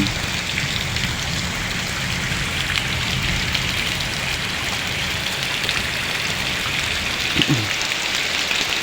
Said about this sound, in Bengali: জল পড়ছে আবার বৃষ্টি হচ্ছে